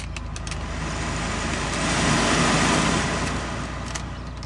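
Engine of a 1985.5 Porsche 944 running steadily, a close, loud, even hum that swells slightly in the middle before easing back, with no talk.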